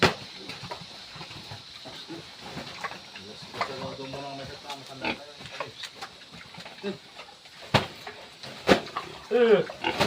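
Pigs on a farm grunt and squeal in irregular bursts, mixed with rustling and knocks, while a person talks throughout.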